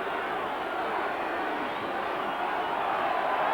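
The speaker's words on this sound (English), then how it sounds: "New Zealand crowd calling for a pushover" A large New Zealand crowd at a 1988 rugby test match roars and calls out as one steady, sustained din heard from within the stadium.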